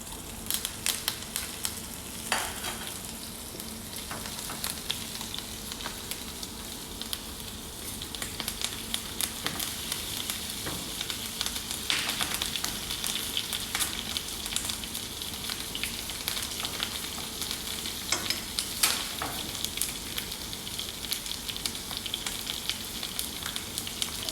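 Butter with thyme and garlic sizzles in a pan while pigeon is being cooked. The frying crackles steadily and close by for over twenty seconds, with occasional louder pops and faint stirring.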